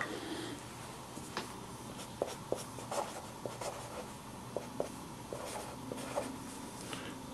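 A pen scratches across paper while figures are jotted down, with quiet, close, irregular strokes and small taps over a faint room background, and no speech.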